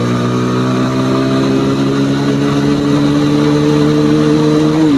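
Motorcycle engine revs loud and close, a steady droning roar whose pitch climbs gradually as it pulls through the gears, then dips at the end.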